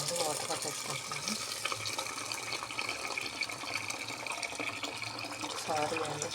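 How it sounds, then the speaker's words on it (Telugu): Water runs from a kitchen tap into a vessel used for dosa batter, a steady splashing flow throughout, with someone talking over it. "ముందు వాటర్ పట్టేసుకుంటున్నాను."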